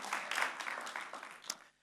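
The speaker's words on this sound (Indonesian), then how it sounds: "Boleh kasih tepuk tangan yang paling meriah buat Tuhan Yesus?" Congregation applauding at a church service, a dense burst of hand claps that swells early, holds steady, then fades out near the end.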